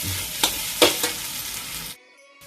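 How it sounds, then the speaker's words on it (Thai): Garlic, coriander root and pepper paste stir-fry in a hot pan, a steady close sizzle broken by a few sharp spatula scrapes before the sound cuts off abruptly. "ตอนนี้สามเกลือที่เรา ผัดก็ส่งกลิ่นหอมแล้วนะฮะ"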